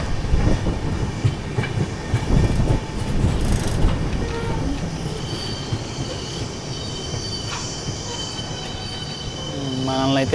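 The Sanghamitra superfast express runs on rails, a loud continuous rumble of wheels with clickety-clack beats and occasional metallic squeals, heard from inside the moving train.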